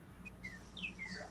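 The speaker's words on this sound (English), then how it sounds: "I hear birds." Birds chirp outside an open window, a few thin, high tweets and whistles heard faintly from a distance over a low room hum.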